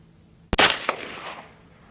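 A single sharp rifle shot fired with Fiocchi Range Dynamics 5.56 ammunition while hunting, loud and close, with a brief echo that decays over about a second after a quiet lead-in.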